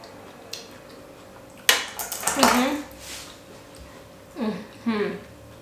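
A knife cuts through tender miso butter cabbage on a plate, with a sharp clink of metal on ceramic followed by a few softer scrapes, heard between bursts of a person talking close by.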